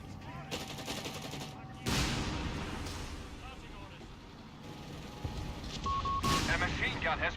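Machine gun fire and battle sounds in the video game Company of Heroes 3, heard as dense, loud bursts of gunfire and explosions that rise and fall, with a voice speaking over them.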